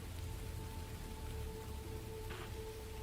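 Steady rain ambience played as a background effect during a tabletop fantasy game, a constant soft hiss of falling rain with a faint patter and no voices.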